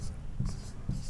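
Pen or chalk writing on paper or board during a geometry lesson, two short scratchy strokes close by over a low background hum.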